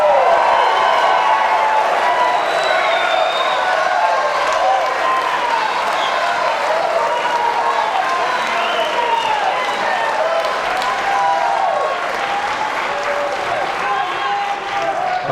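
A debate audience at the Rose Lerman Arts Center in Harrisburg applauds and cheers for Republican governor candidates, a loud, continuous wash of clapping with scattered whoops filling the whole stretch.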